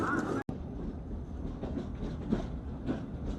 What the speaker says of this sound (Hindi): अभी हमारी ट्रेन निकल रही है